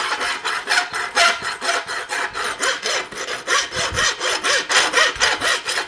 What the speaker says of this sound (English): I'll rasp the front corner first.